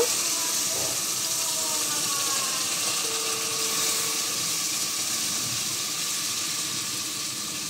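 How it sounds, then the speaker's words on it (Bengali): About half a cup of water goes into a hot pan of fried fish and spice paste, setting off a loud, steady hiss and bubbling that continues evenly for several seconds without talk. "পানি দিব, হাফ কাপের মতো।"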